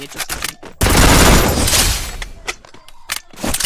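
Gunfire in a shooting video game, with several quick shots and then a dense loud burst of fire, followed by more scattered shots up close.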